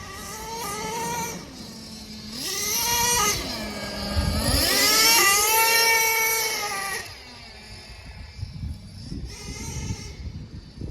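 Nitro engine of a Traxxas T-Maxx RC truck running after carburetor and two-speed tuning, a buzzy close whine that rises and falls with several throttle revs, then settles to a rough idle.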